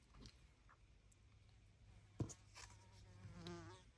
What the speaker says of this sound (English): If you hear that buzzing around, I've got a fly in my craft room.